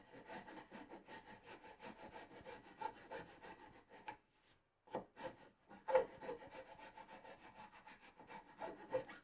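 Rasp and then file working a wooden bench leg, rhythmic back-and-forth rubbing strokes, close and moderately loud, with a short pause midway before the strokes resume.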